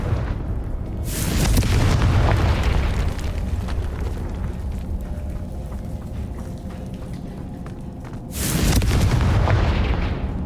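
Confringo blasting spell explosions in Hogwarts Legacy: a loud booming burst opens, a rumbling roar sustains beneath, and a second heavy blast hits near the end, with no talking.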